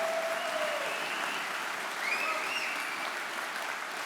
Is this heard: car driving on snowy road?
no